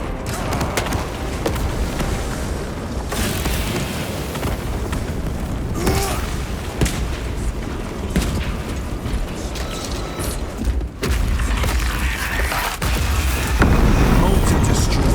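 A corrupted altar is smashed apart in Warhammer 40,000: Space Marine 2, heard as splintering, crashing impacts amid loud battle noise and mechanical rumble, with voices talking over the din.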